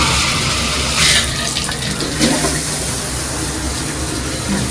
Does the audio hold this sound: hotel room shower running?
yes